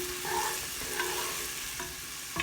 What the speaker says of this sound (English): So you want to cook the onion till it's translucent